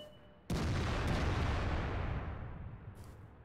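A single artillery gun fires in World of Tanks, a sudden heavy boom that rolls on as a long, loud, broad rumble and slowly fades over a few seconds, with no talking.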